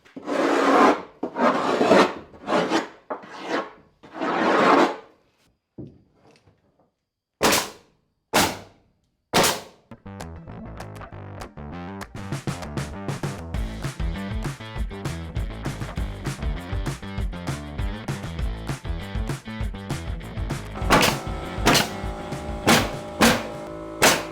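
Ice scraper scraping at a frozen surface, a few separate loud strokes at first, then a long quick run of rapid rough rasping scrapes, close and unaccompanied.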